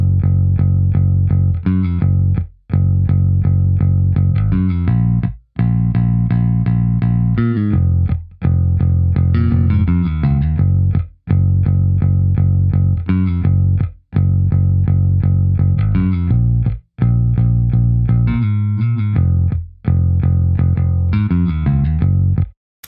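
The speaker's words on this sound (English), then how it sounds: "which is this Contact Bank Scarby Rickenbacker bass." A Rickenbacker electric bass preset in FL Studio, set to the On the Road patch, plays a loud, steady synthesized bass line of sustained, distorted notes with brief gaps between phrases.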